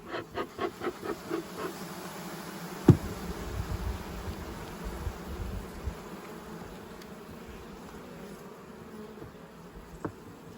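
Honey bees hum steadily and close by while a colony is moved frame by frame from a horizontal lying hive into a polystyrene hive, with a couple of sharp knocks over the buzzing and no talk.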